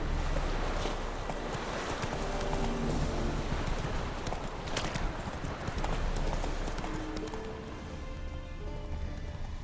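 Hooves clip-clop steadily as a horse sets off in The Witcher 3, a continuous close trotting patter over ambient game noise that fades slightly near the end.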